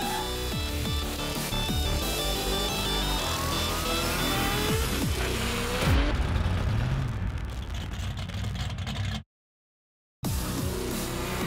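Street rod cars at the NZHRA Street Rod Nationals in the Bay, engines running loud and close in a busy mix, with one rising rev pass midway, then a brief dropout before the motor noise returns.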